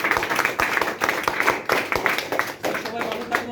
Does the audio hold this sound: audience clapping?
yes